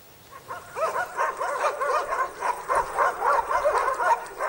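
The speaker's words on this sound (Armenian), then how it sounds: "Ցերեկվա հաչոցները գիշերը վերածվում են ոռնոցի։" A pack of stray dogs barks in a residential area of Gyumri, a rapid run of overlapping yips and barks at moderate distance that rises and keeps going without pause.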